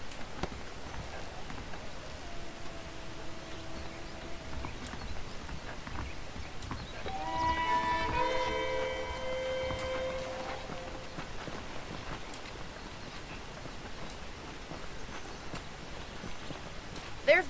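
Horse hooves clip-clop in Red Dead Redemption, a steady rhythm of walking footfalls at moderate distance, mixed with tonal game sounds and a voice talking over them.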